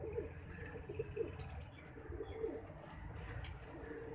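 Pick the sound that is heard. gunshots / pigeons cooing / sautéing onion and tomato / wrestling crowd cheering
pigeons cooing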